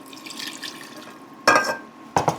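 Warm milk goes into a pan for a cheesy chicken asparagus pasta bake sauce. Two short, close splashing pours stand out against a quiet kitchen background, with no speech.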